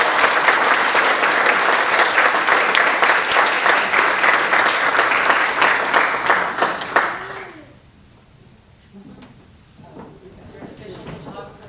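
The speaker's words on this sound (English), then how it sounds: "Let's give them a round of applause." An audience at an induction ceremony claps loudly and steadily for about seven seconds after a chapter charter is presented, then the applause fades out into quiet room noise and murmuring.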